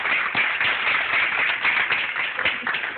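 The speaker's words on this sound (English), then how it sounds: "let's give her a round of applause" An audience at a Chicago business seminar claps together in a continuous, moderately loud patter that stays even across the whole stretch.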